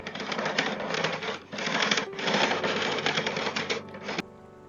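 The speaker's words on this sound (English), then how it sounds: "And now I am going to whisk that together." Whisk beating dressing ingredients in a bowl, rapid close metallic clicking and scraping in three bursts with short pauses between, ending with a sharp tap.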